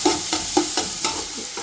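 Onions sizzling in hot oil for restaurant-style chicken lollipop, with a steady close hiss broken by several sharp stirring scrapes.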